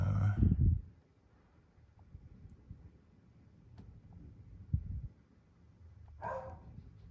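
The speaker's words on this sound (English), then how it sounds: "excuse my dog barking" A dog barks a few times, somewhat muffled and at a distance, with low rumbling and quiet pauses in between.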